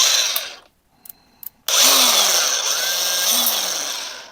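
DeWalt cordless drill (DCD1007 from the US) with speed regulation: a short whir, a pause with a couple of clicks, then the motor spins up loud and close, its pitch gliding up and down as the trigger varies the speed.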